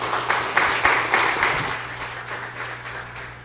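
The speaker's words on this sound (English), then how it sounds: "let's give her a good Trinity round of applause" A church congregation greets a special guest with a round of applause, a moderately loud spread of clapping with a few sharp claps up front that gradually thins and fades.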